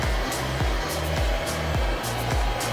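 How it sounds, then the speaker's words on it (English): A Conair hair dryer fitted with a diffuser roars steadily and loudly up close while blow drying curly hair, its motor hum holding constant with faint rhythmic pulsing. "So I use Conair with the diffuser. That's what I use. What I'm gonna do is blow dry my hair"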